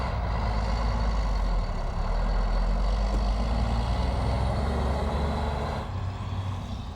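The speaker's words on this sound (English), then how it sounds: "But here comes another truck." A heavy garbage truck rolls past on a South Bronx street with a loud, steady engine rumble and road roar that fills the whole stretch. The noise eases slightly near the end, and no one talks.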